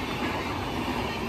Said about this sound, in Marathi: नॉनस्टॉप मडगाव ते हजरत निजामुद्दीन राजधानी एक्सप्रेस तुफाणी